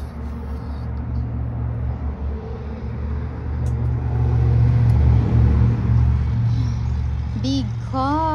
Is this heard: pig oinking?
no